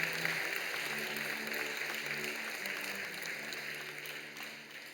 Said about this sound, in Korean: 여러분 큰 박수로 환영하시지요.